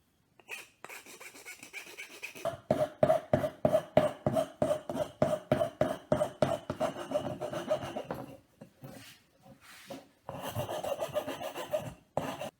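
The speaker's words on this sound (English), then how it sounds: "Now I'm going to take a hand file and just make this sharp corner just a little more round." Hand file rasping over the sharp corner of a steel WWI-style trench spike to round it off, a fast run of close, rhythmic strokes with brief pauses, no talking.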